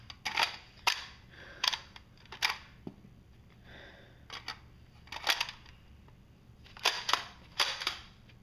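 Cougar airsoft pistol firing, a series of sharp, close, snappy shots, some single and some in quick pairs or triples, with uneven gaps between them and no talking.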